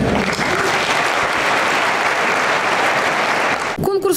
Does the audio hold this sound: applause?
yes